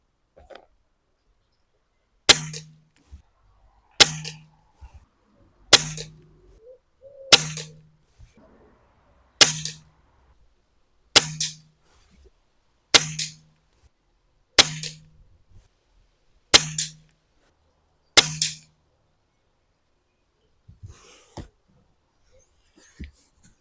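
Arms S400 air rifle firing JSB Diablo pellets, ten sharp close shots spaced about every one and a half seconds, each a crisp crack with a short tail, separated by near silence, followed by faint handling noises.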